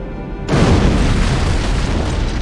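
Antimatter charge detonating aboard a ship in Halo: Combat Evolved, one sudden loud boom that fills the space and rolls on as a dense, sustained rumble.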